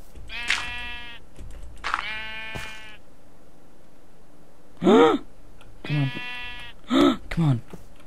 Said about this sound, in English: Some sheep are going to die today.